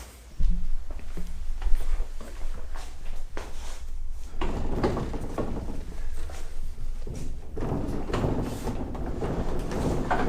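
A rolling storage wall built from a 2x4 frame with scrap plywood is pulled out in a shop space, giving a rumbling roll and wooden knocks, with a couple of soft thuds before a louder sustained rolling stretch.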